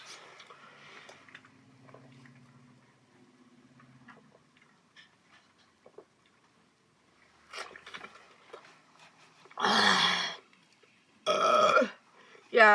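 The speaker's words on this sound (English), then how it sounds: "I have to let these burps loose, you guys, because it's really hurting my chest" Loud, drawn-out burps after chugging Coca-Cola come in two big bursts near the end, following a stretch of quiet with faint murmuring and small clicks.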